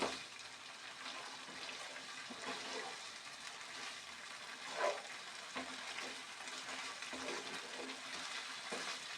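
Chicken tikka boti masala frying in a pan over a high flame, a continuous hiss and sizzle with occasional stirring scrapes, one brief louder pop near the middle, no voices.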